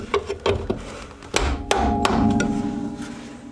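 A hammer strikes an engine mount bolt on a Jeep Cherokee XJ: a few quick metallic taps, then two sharper blows that leave a short ringing tone, all close up with no talking.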